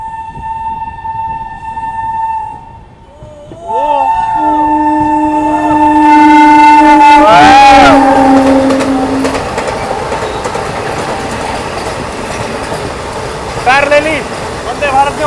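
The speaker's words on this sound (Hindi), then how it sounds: "पैरेलली वंदे भारत ने ओवरटेक किया हमें भाई।" Vande Bharat Express passing on a parallel track near Aligarh, heard from aboard another train: a long, loud rumbling rush with a horn blast partway through, while someone talks throughout.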